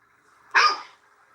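A single short dog bark, moderately loud and alone against a faint background hum.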